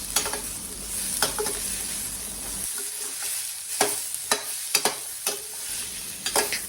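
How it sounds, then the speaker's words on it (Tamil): Mango pieces sautéing in sesame oil for mango pachadi give a steady sizzling hiss, broken by a series of sharp spatula scrapes and taps as they are stirred, close and loud with no talk. "நல்லெண்ணெயில் மாங்காய் வதங்கும்போது அந்த ஒரு ஃப்ளேவர் அது ரொம்ப நமக்கு பிடிச்ச மாதிரி நல்ல ரிச் அரோமாவாக இருக்குங்க"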